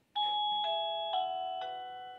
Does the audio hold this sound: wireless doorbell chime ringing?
yes